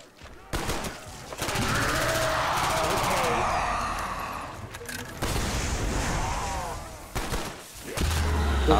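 Gunfire in the Black Ops zombies map Call of the Dead, with sustained bursts of shots lasting several seconds, loud and dense, broken by brief pauses and mixed with game sounds.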